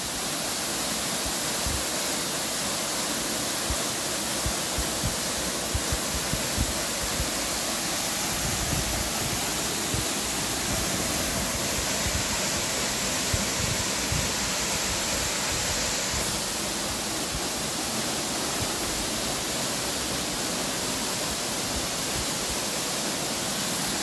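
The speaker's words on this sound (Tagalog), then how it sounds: "So, muna to ang Kasalan Falls." Pasalan Falls in Zamboanguita, Negros Oriental, roars as a steady, dense rush of falling water, loud and close, unbroken for the whole stretch with no voices.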